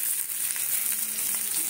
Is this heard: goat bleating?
no